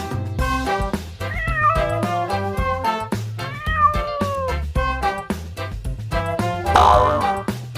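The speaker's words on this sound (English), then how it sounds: "Cat." Repeated cat meows rise and fall over a bouncy children's song with rhythmic backing beats, the cries clear and prominent in the mix.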